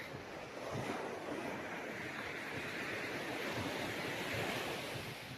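Calm sea waves wash onto the shore of Jomalig Island in the Philippines, a steady, broad surf wash with light wind buffeting the microphone throughout.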